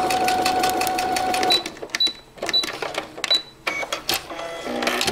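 A sewing machine runs in short bursts while stitching a zipper between faux-leather and lining fabric, its mechanical whir starting and stopping with brief pauses, fairly close and clear with no talking.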